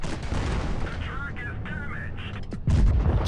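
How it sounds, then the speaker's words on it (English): A tank cannon fires with a loud, close boom near the end inside the World of Tanks Blitz video game, following in-game effect sounds and someone talking over the action. "Just able to put my shot into his side"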